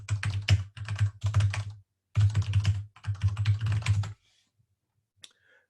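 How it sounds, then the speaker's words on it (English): A loud computer keyboard clacks in fast, dense bursts of typing with a short pause midway, then falls quiet, heard up close with no talking. "Y'all gonna hear my beast of a freaking typewriter here."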